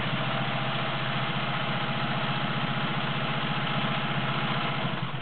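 A Singer 500A Slant-O-Matic sewing machine stitches zigzag, giving a close, steady motor whir with a fast, even pulsing rhythm that holds unbroken for the whole stretch, with no voices.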